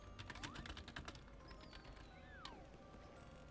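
Rapid clicking of a computer keyboard during a late-night online game session, a dense burst of keystrokes in the first second or so, then sparser taps over steady background noise and faint tonal game sounds.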